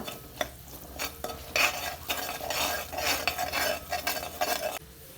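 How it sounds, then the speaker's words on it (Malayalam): A spoon scrapes and stirs continuously through mango pickle as chili powder is mixed in, with a faint sizzle and soft clinks against the pan, close and steady. "ഇതൊന്ന് ഇളക്കി മിക്സാക്കി കൊടുക്കുക"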